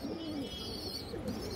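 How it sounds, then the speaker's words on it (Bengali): Pigeons coo softly in a low murmuring burst, close but quiet over a steady background hiss. "এই যে দেখেন কবুতরটা"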